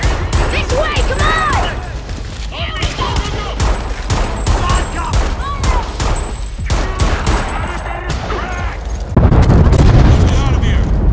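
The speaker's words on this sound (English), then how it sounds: "The explosions damaged the motor!" Explosions and gunfire in the Homefront: The Revolution video game, loud repeated blasts and crackling bursts in a chaotic battle, with shouting voices over the din and a heavy rumble at the end.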